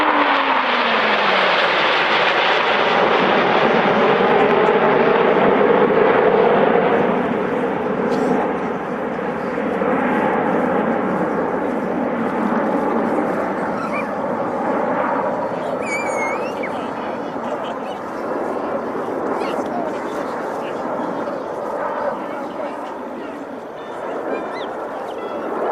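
Team Viper aircraft at the Dunsfold Wings and Wheels airshow flying an oblique loop, a sustained engine drone that rises and falls in pitch as it passes, with a commentator talking over it and crowd noise.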